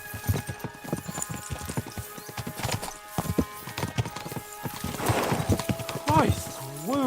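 Horses galloping in the medieval video game Kingdom Come Deliverance 2: a steady, close clip-clop of hooves throughout, with a horse whinnying near the end, under ongoing spoken dialogue.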